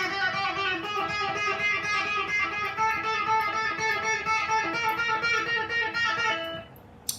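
Electric guitar climbing up the neck in rapid pull-off licks during a song's solo, a dense, sustained run of notes that keeps going for several seconds and then cuts off near the end.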